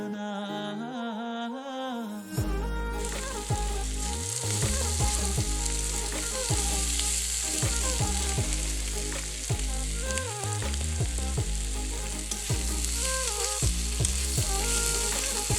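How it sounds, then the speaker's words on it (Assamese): Onions frying in hot oil, with garlic and ginger added, give a steady, close sizzle that runs the whole time under background music. "যেতিয়া পিঁয়াজটো অলপ ভজা হ'ব, তাৰপিছতে মই নহৰু আৰু আদাখিনি দি দিছোঁ"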